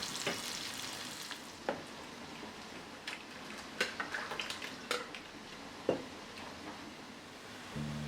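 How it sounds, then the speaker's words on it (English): Bitter gourd pieces deep fry in hot coconut oil with a steady, even sizzle. Occasional sharp pops and utensil clinks break through the frying, which is fairly quiet and close, with no speech. "Deep fry the bittergourd pieces in hot coconut oil."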